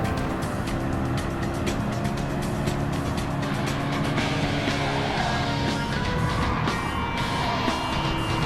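A Peugeot race car lapping a track, a steady, dense engine roar with other cars running close by. The noise stays loud and continuous throughout, with no talk over it.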